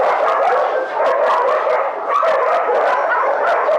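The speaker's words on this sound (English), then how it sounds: "we're trying to always take dogs outside and do a lot of enrichment because the sound in here is not appropriate for people and for animals" Many dogs barking and yipping together in the echoing kennel rows of an animal shelter, a dense, continuous loud chorus with overlapping barks and no pauses.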